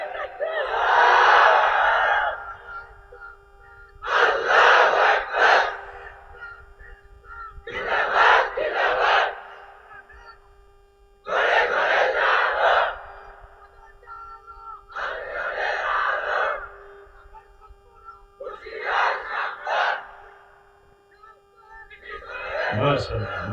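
At a religious gathering, a man bellows a takbir and a large crowd roars back. About seven loud shouted bursts alternate with short gaps, each one sustained and echoing.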